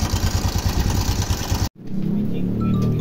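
A Rusi RS125FI motorcycle engine with a worn timing chain, tensioner and rollers idles with a fast, rattling mechanical clatter, briefly cuts out, then resumes with a steadier running tone, close to the microphone.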